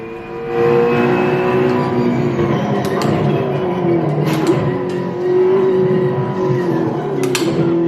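A race car engine in the rFactor 2 racing video game drones steadily at high revs with slight pitch swings and a few sharp clicks, continuous and close with no talk.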